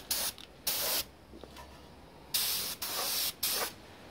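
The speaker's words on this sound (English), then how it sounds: "I think that's enough for etch priming those." Etch primer sprayed from a can onto classic Victa lawn mower parts: six short, close hissing bursts separated by brief pauses, with no voices.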